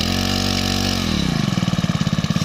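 A used Japanese Robin brush cutter engine running loudly up close, steady at first, then settling into a lower, rhythmic idling putter.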